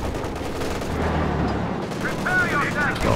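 Six-pounder anti-tank gun firing in Company of Heroes 2 battle, a dense rumbling blast amid ongoing combat noise, with a voice talking over it.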